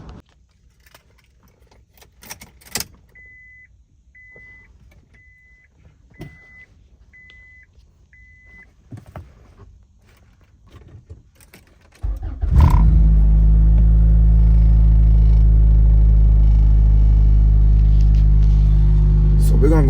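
A car starts up after a CV axle replacement, with a door, key jingles and chime beeps first, then the engine catches and settles into a loud, steady, close idle rumble; a voice talks early on.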